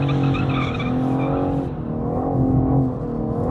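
A 2023 BMW M4 Competition with a titanium exhaust drifts with traction control on, its engine droning loudly and steadily while tyres scrub and squeal through the slide, with no talking.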